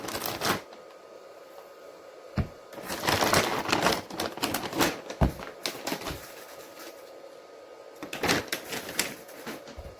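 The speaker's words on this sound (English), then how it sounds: "I love cracking open fresh tire bags" Plastic bags holding RC car tires are torn open and handled close by, with loud crinkling and rustling bursts in irregular clusters.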